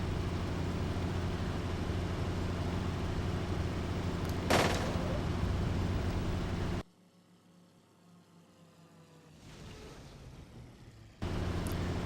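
Fw 190 cannons and machine guns raking a ground column in a flight combat game, a loud dense roar of continuous gunfire with engine noise that cuts out abruptly partway, leaving quiet hiss before the roar returns.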